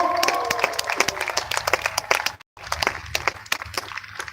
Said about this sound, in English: let's give him a big cheer and a big round of applause